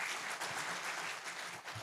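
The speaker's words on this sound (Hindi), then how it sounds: "जोरदार ताली तो बजाओ।" Audience applause at a public speech, a steady wash of clapping from a crowd, fairly faint and continuous throughout, with no talk over it.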